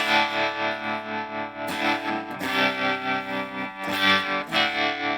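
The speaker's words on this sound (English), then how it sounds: "like a heavy tremolo or something." An electric guitar runs through an effects unit with heavy tremolo and distortion. It plays loud, buzzing chords whose volume pulses in a steady rhythmic throb, with abrupt chord changes and no talking.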